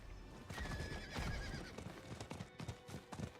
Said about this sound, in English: May as well take a horsey.